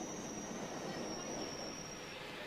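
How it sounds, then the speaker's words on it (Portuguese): London Underground train running on rails, a loud continuous rumble of wheels with a sustained high metallic squeal across the whole stretch, close by, with no speech over it. "Este é o Underground de Londres, que é o maior e mais antigo sistema de metrô do mundo."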